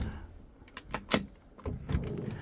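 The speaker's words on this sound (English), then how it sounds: "And here are your drawers." Drawers inside a Knaus Sun i900 motorhome are pulled open, giving a quick series of close sliding rattles and sharp clicks spread over a couple of seconds.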